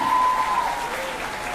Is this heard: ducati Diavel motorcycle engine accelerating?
no